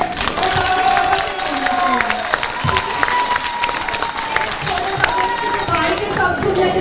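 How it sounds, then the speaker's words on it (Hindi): Crowd at an outdoor political support rally clapping hard on cue, dense continuous applause mixed with crowd noise and cheering, loud and close, with voices carrying over it throughout. "इतना जोर से ताली बजा दो"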